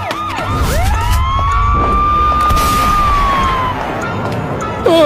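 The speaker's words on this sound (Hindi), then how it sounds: "तभी गांव में पुलिस की गाड़ी का सायरन सुनाई देता है।" A police car siren wails through a village, a loud rising and falling electronic tone sweeping up and holding, heard close over background noise.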